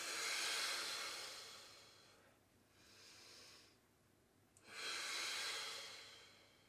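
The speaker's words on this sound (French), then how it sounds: "Toujours chercher à inspirer avec le nez." Breathing in through the nose during exercise, with several soft, airy nasal breaths close to the microphone, swelling and fading in a slow rhythm with quiet gaps between, no talking.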